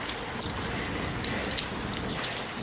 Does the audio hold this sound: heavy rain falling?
yes